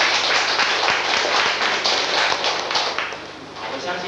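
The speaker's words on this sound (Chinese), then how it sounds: "来掌声鼓励一下" An audience at a lecture bursts into applause, a dense burst of clapping from many hands that holds steady for about four seconds and fades slightly at the end.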